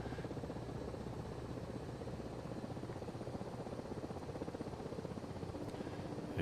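Steady rotor drone of a light helicopter in a flight simulation game, a constant broadband whir with faint rhythmic blade chop, even in level throughout with no talk.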